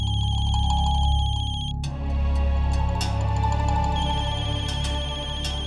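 A mobile phone ringtone plays continuously, a repeating electronic melody that shifts partway through, fairly loud and close, with no one talking.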